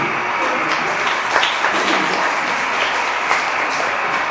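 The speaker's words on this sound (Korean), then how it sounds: "박수!" Applause fills the hall at a Korean literary concert, a crowd of listeners clapping loudly and continuously for a few seconds with slight swells in intensity.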